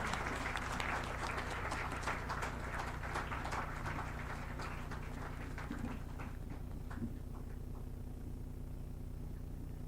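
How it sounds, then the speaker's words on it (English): An audience claps during a prize distribution ceremony for the 21st K.K. Luthra Memorial Moot in 2025. The applause is dense and sustained, then gradually thins and softens toward the end. "A huge round of applause."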